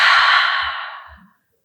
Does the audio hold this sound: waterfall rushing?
no